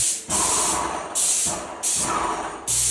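A paint sprayer machine sprays in steady hissing bursts, four long pulses with brief pauses between, loud and close.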